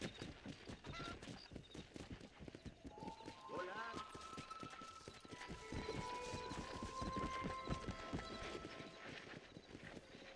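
A horse's hooves clip-clop in a steady galloping rhythm in the Red Dead Redemption video game, with engine-like drones and a whinny-like tone over quiet background.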